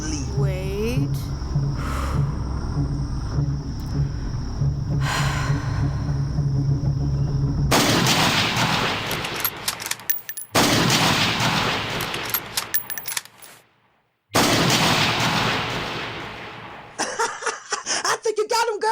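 Gunfire aimed at an enemy mortar team, several loud dense bursts of rapid shots with echoing reports, broken by brief pauses, over other sounds and some shouted voices.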